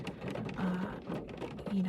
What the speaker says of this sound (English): hopefully the rain doesn't get too loud, that you can still hear me